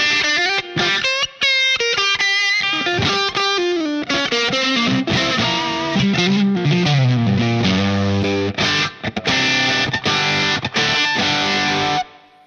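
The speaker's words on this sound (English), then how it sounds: "let's hear it with the classic distortion" Electric guitar through a Line 6 Pod HD500 classic distortion model, set with low drive and raised output and filter, plays a sustained, loud distorted riff of chords and bending single notes that runs continuously for about twelve seconds.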